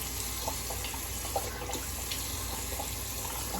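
Tap water runs steadily into a sink while a face and a shaving soap bar are wetted before a shave, with a few faint splashes and clinks and no talking.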